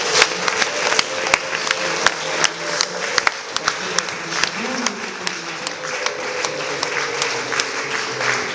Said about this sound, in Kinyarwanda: tugukomeye amashyi kuri wowe